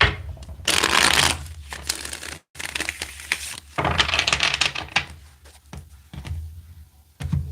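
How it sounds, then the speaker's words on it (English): Tarot cards are shuffled in several quick riffling bursts close to the microphone, crisp papery flutters separated by short pauses and soft taps. "Let's get one more good shuffle here."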